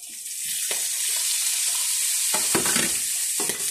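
Tomatoes stirred into frying pork with garlic and onion for ginisang sayote, a steady close sizzle with spatula scrapes and clanks against the pan.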